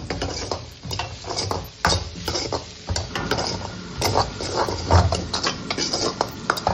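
Chopped cabbage and mixed vegetables for veg manchow soup are stir-fried in a pan: repeated scraping and clattering strokes of a spatula over a light sizzle, irregular and close, with no talking.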